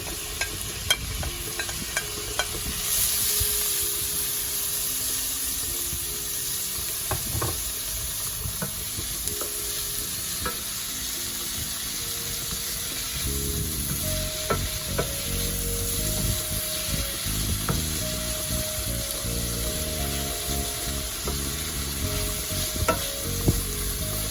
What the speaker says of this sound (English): So I'm going to toss that in and saute.